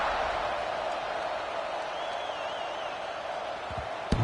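Stadium crowd in the CFB 26 college football video game roars steadily at kickoff, a broad sustained wash of cheering with a faint whistle-like tone midway and a sharp knock near the end.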